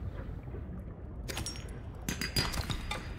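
Quartz being broken and collected in the video game Subnautica Below Zero, a few bright glassy clinks and taps over a muffled underwater ambience.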